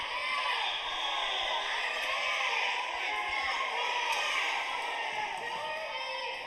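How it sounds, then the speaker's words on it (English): Crowd cheering at a 7th grade school basketball sectional game, a steady, fairly distant wash of voices and shouts in a gym that holds through the whole stretch without a break. "I'm sure you can hear all of the cheering"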